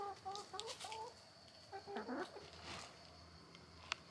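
Chickens cluck in short, scattered bursts close by as they are fed grapes on a farm, with a sharp peck-like click near the end.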